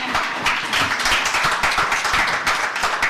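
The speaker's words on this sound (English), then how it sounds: "please, a round of applause for that" A steady, dense patter of audience applause fills the hall at the Ashoka Young Changemakers Showcase, moderately loud and sustained throughout.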